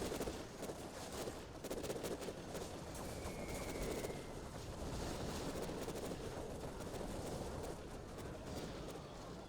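Quad cannons fire in a real-time strategy game as a dense, rapid stream of faint, distant gunfire crackles over a continuous rumbling background, with no voices.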